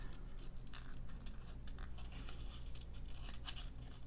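Scissors snip through crafting paper for a fall collage, a quiet run of close crisp cuts and rustles over a steady low indoor hum.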